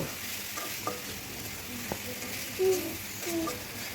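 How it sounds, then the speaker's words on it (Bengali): Fish pieces and spices are stirred and fried together in a pan with green chillies, giving a steady close sizzle broken by a few scraping stirs of the spoon. "আমি সব মশলাগুলো দিয়ে ভালোভাবে একটু মিক্স করে নিচ্ছি"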